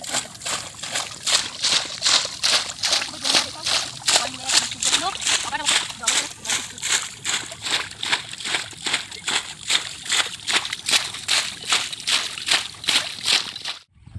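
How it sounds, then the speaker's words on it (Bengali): Water bailed by hand out of a flooded rice field: rhythmic, regular splashes and sloshes roughly every half second, close and loud, continuing steadily for the whole stretch. "আর আমি এইদিকে একটু জলটা কমিয়ে দিচ্ছিলাম ছিঁচে।"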